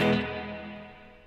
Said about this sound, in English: If I turn it to full, the reverb sounds like this